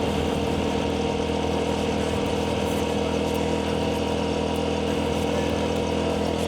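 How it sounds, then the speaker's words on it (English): A motorcycle engine with a leaking, damaged exhaust runs steadily at a low idle, a faint continuous drone with a slightly raspy hiss that holds level throughout, with no voices. "somehow I messed up my exhaust and my exhaust is leaking smoke and noise"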